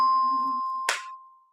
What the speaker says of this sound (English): So I would use some chimes